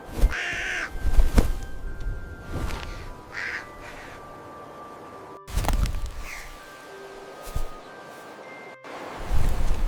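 Crow caws ring out alone in a few separate bursts across an otherwise quiet outdoor scene, with faint rustling between them.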